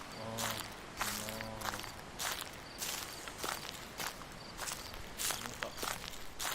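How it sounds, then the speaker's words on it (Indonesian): Footsteps in the horror game Slender: The Eight, a steady series of crunching steps, close and fairly loud, over a faint ambient hum with a few brief voice-like tones early on. "Ada langkah kaki. Langkah kaki kita di mana?"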